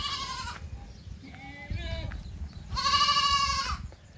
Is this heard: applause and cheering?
no